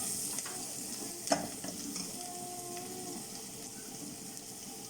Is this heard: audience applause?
no